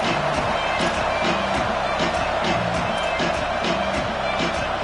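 A home college football stadium crowd of about 63,000 Cougars fans at elevation roars and cheers continuously, dense and loud throughout, with some rhythmic chanting pulses mixed in.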